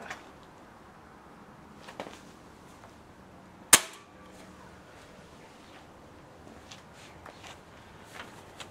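A single sharp shot from an old air rifle of unknown make, fired at a zombie target, rings out once alone against a quiet background, with a few faint clicks and handling sounds around it.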